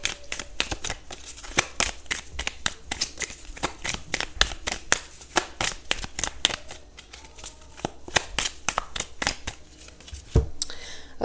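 Tarot cards riffled and shuffled by hand at close range, a steady run of crisp flicks and snaps that goes on without a break, with a quiet voice talking now and then.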